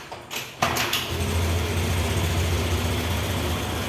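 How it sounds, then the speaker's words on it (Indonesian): A motorbike engine is warmed up: a brief rattle and clunk, then the engine catches and settles into a steady, close, low idle rumble that continues evenly with no talking. "ini kita panaskan dulu mesin kereta kita ya"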